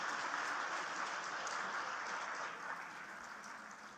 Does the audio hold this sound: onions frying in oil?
no